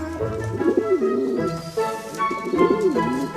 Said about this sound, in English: And they weren't just ordinary birds. They were highly trained racing pigeons.